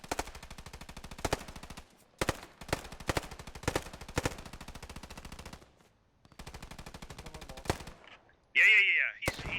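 Machine gun fire in Post Scriptum, several long bursts of rapid, evenly spaced shots with louder nearby reports punctuating them, separated by short pauses, then a sharp whining tone near the end.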